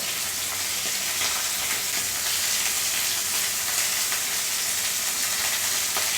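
Skewered prawns frying in oil, a loud, dense, continuous sizzle and crackle that stays steady and close, with no voices.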